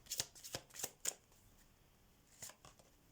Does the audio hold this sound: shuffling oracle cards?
yes